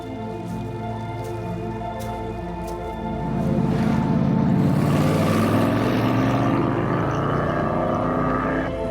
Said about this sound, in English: we've got the AC Cobra. This is so loud.